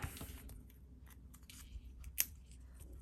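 Scissors snip through paper in an art journal, a few quick close cuts with one sharper crisp snip near the end, with no talk.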